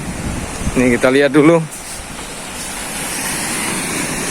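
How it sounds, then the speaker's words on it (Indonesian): Ocean waves at the shore with small surf, a steady broad wash of water and wind noise on the microphone; someone speaks briefly at the start, then only the continuous surf remains. "Nih, ombaknya cenderung kecil."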